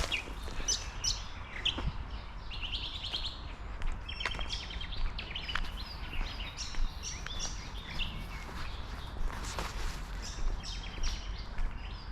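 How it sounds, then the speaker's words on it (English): An Australian reed warbler calls in spring wetlands, bursts of bright chattering song repeated at intervals over a low ambient rumble, fairly distant, with other faint bird chirps around. "So I can hear the Australian reed warbler out there calling"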